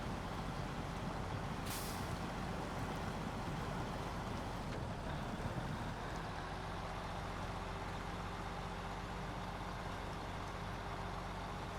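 A truck engine in the video game SnowRunner drones steadily in a dense, continuous low rumble. A brief hiss bursts near the start, and the engine noise goes on without pause throughout.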